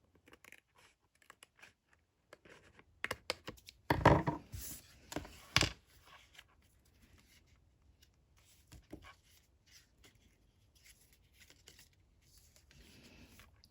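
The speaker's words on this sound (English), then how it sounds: "I'm just gonna go back and cut a little sliver." Paper being cut for a Christmas junk journal: a few crisp snips and rustles cluster mid-clip, with quieter handling sounds around them and no talking.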